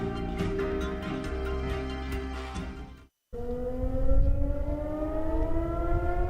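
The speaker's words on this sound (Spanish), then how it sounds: "Las sirenas antiaéreas son parte de la vida cotidiana" An air raid siren wails in long sustained tones that cut off briefly, then restart with a rising, sweeping pitch, loud and alone.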